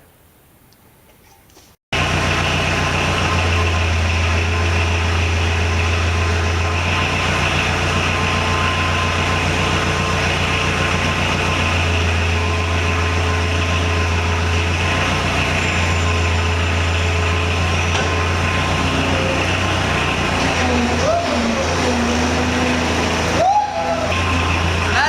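A skid steer's engine, with an air-cooled heat exchanger fan driven by it, starts up after a brief quiet moment and then runs loud and steady, a constant droning hum with a faint ticking, close by.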